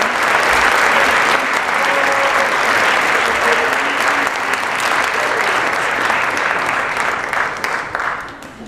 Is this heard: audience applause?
yes